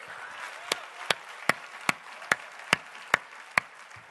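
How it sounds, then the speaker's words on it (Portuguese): A congregation claps at a church service in regular single beats, about eight sharp, evenly spaced claps in a steady rhythm over quiet room noise. "Vamos aplaudir o Senhor"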